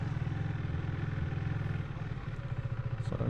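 Motorcycle engine running steadily up close as the rider twists the throttle, a low rumbling drone with slight rises and a faint clatter, no speech.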